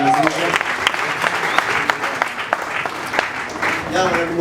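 Sustained applause from a church anniversary concert audience, steady clapping throughout with a singer's voice rising briefly at the start and end.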